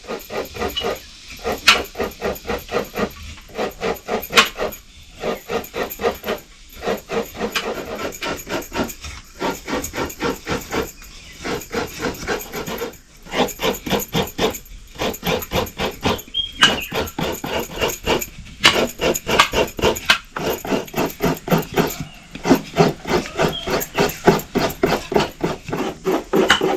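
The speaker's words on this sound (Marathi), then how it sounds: "आई, मी खोबरं किसते." Coconut grated by hand for making steamed modak, producing a continuous rhythmic rasping scrape, loud and close, with steady strokes broken by brief pauses throughout and no talking over it.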